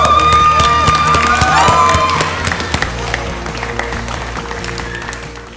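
Studio audience at a televised singing competition applauding and cheering loudly, with a sustained burst of claps and shouts that gradually thins out, mixed with music.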